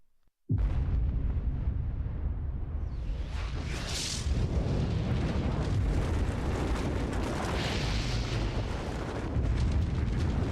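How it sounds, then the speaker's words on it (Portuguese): A nuclear test detonation erupts from near silence into a huge sustained roar, a broadband blast of rumbling and rushing noise that swells again midway and stays loud to the end. "determinar os efeitos de uma explosão nuclear em uma casa ou uma população"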